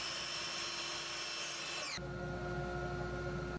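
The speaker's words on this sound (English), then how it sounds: "Using a miter saw, I cut 4 pieces of wood to length for the side rails." A miter saw cuts wooden side rails for a raised planter, a steady loud whine of blade through wood that drops abruptly into the motor's lower, cleaner hum as the cut finishes and the saw spins down.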